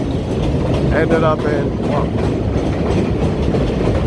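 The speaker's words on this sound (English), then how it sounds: "there goes the subway" A New York subway train rumbles past in Astoria, Queens near Ditmars Avenue, a loud steady roar with rattling wheels filling the whole stretch while someone speaks briefly over it.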